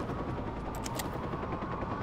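Helicopter in the video game Watch Dogs during a police pursuit, a steady broadband rotor drone with faint clicking bursts and possible gunfire layered over it.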